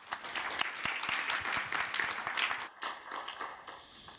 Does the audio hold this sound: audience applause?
yes